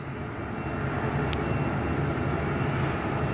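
Virgin Australia Boeing 737-800 MAX jet at Perth airport, heard from an indoor viewing platform as a steady, moderately loud engine roar that holds constant throughout, with no talking.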